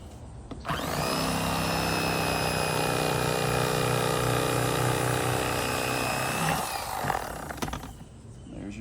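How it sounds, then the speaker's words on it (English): Electric knife buzzing steadily and loudly for about six seconds while filleting flounder and sheepshead, then cutting off, followed by faint handling noises. "with the electric knife."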